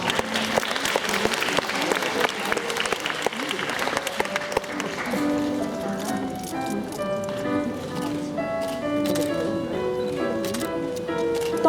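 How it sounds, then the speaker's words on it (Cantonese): Audience applause for award-winning pupils at the 2016–2017 graduation ceremony of Tuen Mun Government Primary School, a dense steady clapping that fills the hall before giving way to tonal music. "請再以掌聲鼓勵獲獎嘅同學。"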